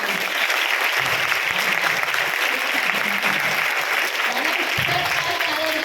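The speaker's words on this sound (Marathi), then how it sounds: "त्यांच्यासाठी एक जोरदार टाळ्या" Loud, continuous audience applause at a women's organization event in Beed, dense clapping filling the hall throughout, with a faint voice briefly audible underneath.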